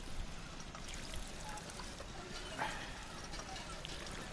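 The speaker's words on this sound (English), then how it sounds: "And a water pump." A water pump in a Fallout 4 settlement garden pours water in a continuous soft splashing stream, fairly faint and steady throughout, with no talk over it.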